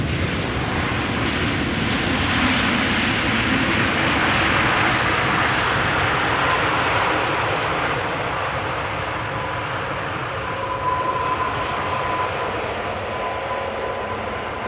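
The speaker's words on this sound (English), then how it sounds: "Qatar flight 275 this was, 777-300 ER arriving from Doha." A Qatar Airways Boeing 777-300ER arriving from Doha at Amsterdam Schiphol gives a steady, rumbling jet roar that slowly fades as it passes, with a faint engine whine near the end.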